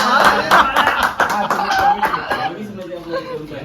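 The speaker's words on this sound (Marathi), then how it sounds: "वाजव टाळ्या वाजव वाजव." Hands clapping during an IBPL Champions League auction, a quick run of sharp claps at the start that fades out, mixed with chuckles and people talking.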